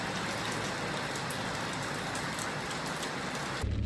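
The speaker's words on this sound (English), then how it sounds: "The rain won't stop" Steady rain falls on surfaces in a remote village in Botswana, making a constant, even hiss throughout with no voices.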